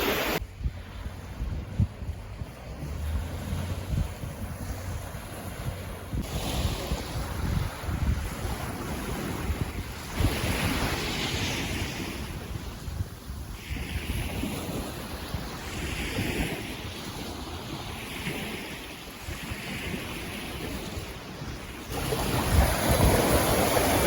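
Choppy Black Sea surf rolls onto the shore at Chornomorsk under a cool wind, with waves washing in steadily and gusts buffeting the microphone, no voices heard.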